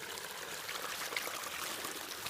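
Running water flows along a trail in a steady, faint stream, a soft continuous hiss and trickle with no voices.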